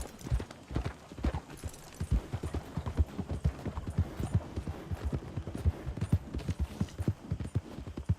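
Hooves of a galloping horse in Red Dead Redemption 2 pound in a fast, steady rhythm, close and continuous for several seconds with no speech over it.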